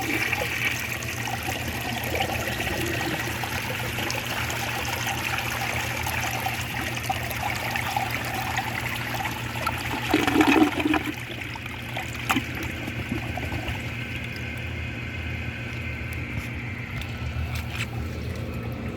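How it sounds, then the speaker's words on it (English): A 1973 vintage toilet flushes a dish towel, giving a steady rush of swirling water that surges around the midpoint and then settles into a softer trickle as the tank refills, close and continuous. "So I'm just going to lay it out flat and then give it a flush."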